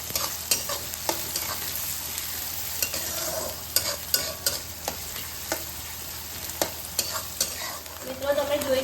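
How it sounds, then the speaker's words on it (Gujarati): Onion sautéing in oil for a fenugreek-leaf muthiya recipe crackles with a soft, constant sizzle, while a spoon scrapes and taps the pan in irregular strokes, up close with no voices. "ડુંગળીને આપણે તેલ સાથે શેકાવા દઈશું."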